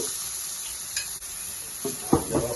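Onion and turmeric hitting hot oil in a pan, a soft steady sizzle with a few stirring scrapes and clatters toward the end.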